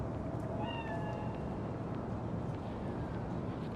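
In the video game Cyberpunk 2077, a cat gives a faint meow early on, and a softer one follows later, both half buried under a steady wash of wind-like ambient noise.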